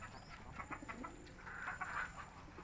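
A sick pigeon coos softly and faintly at a distance against a steady background hiss, with no talking.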